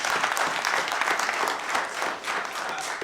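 An audience at a public lecture on African liberation and anti-fascism breaks into dense, sustained applause, a steady wash of many hands clapping together for the full stretch.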